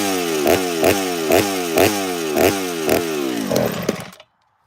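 A chainsaw engine runs loud and close with a pulsing, repeating rhythm, then cuts out abruptly near the end.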